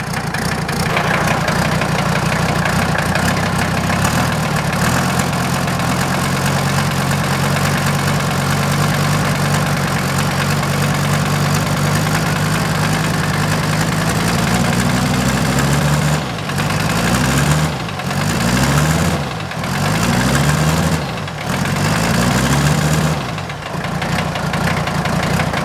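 A diesel engine burning methanol fuel runs loud and rough for a long stretch, its steady idle giving way near the end to uneven surging, stumbling pulses and dips.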